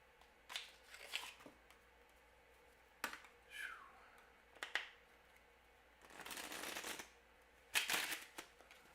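A deck of playing cards is shuffled in short bursts of riffling and snapping, close and fairly faint, with brief pauses between each burst in a quiet room.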